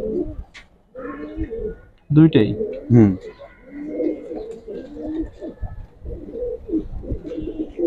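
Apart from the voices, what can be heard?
Giribaz pigeons cooing in loft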